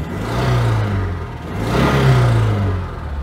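Oltcit car with an overhead cam engine and a suspected camshaft issue, running as it warms up, a close, steady engine drone with gently rising and falling revs and a faint mechanical clatter.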